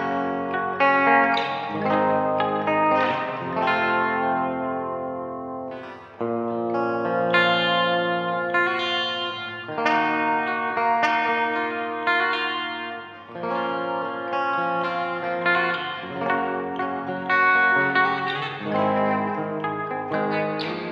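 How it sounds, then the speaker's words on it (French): Electric guitar played through a Blackstar HT Studio 20 valve amp with its reverb turned all the way up, sustained chords ringing in a loud, continuous, cavernous wash with no talking. "plus on va pousser la reverb et plus ça va être caverneux."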